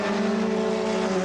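F2000 race cars drone past at Road America during a 2001 race, a steady, loud, tonal engine whine holding pitch for a brief moment.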